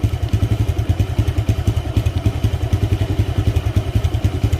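Motorcycle engine idling while stationary, a steady close-up chugging pulse with rhythmic mechanical clatter and thumps throughout, no voices.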